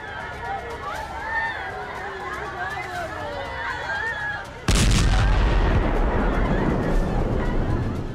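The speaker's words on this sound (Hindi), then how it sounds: "ये धमाका हुआ है शिया मस्जिद में।" Distant crowd commotion and shouting, then a sudden loud bomb blast at a Shia mosque in Kunduz, Afghanistan cuts in partway through, followed by sustained rumbling noise.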